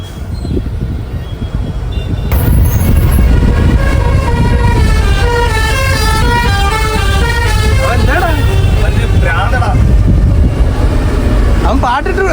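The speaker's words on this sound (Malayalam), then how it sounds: "മറ്റേ ഹോൺ അടിച്ച് പാട്ട് പാടുന്ന അവൻ ഞെക്കി പിടിച്ചു വെച്ചോണ്ടിരിക്കുവാ" A vehicle's musical horn, held down, plays a repeating melodic tune for several seconds, loud and close, over engine rumble and road traffic noise in Bihar, with voices nearby.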